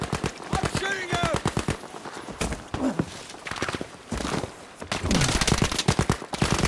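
Rapid bursts of automatic gunfire in Battlefield 5, loud and near, with fast rhythmic shots interrupted by short pauses, while players talk over the shooting.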